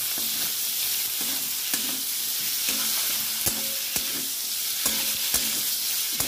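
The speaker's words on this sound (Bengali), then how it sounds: "এঁচোড়টা দিয়ে দিয়েছি। এবার ভালো করে কষে নেব।" Raw jackfruit coated in spices is stir-fried in a pan for a vegetarian dish, a constant close sizzle broken by regular scraping strokes of the spatula.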